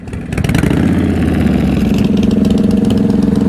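Motorcycle engine held at low, steady revs during slow-speed riding practice, a loud close throbbing pulse that rises slightly as the throttle is eased on and stays continuous.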